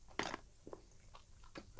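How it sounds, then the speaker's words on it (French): Someone chews Japanese takeout food from a restaurant, with a sharp crunchy bite followed by a few softer, quieter chewing sounds, faint and close, with no talking. "Tu prends le temps de bien mâcher."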